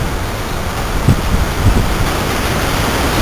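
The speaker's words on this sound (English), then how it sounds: "Very high wind." Very high wind roars during a storm in Stockbridge, a loud, dense, continuous rush with gusty low buffeting close to the microphone.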